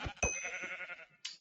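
Sheep in the Web3 Minecraft-style video game Hungry World give a couple of short, nasal bleats, fairly faint, with a quick click-like onset before each call.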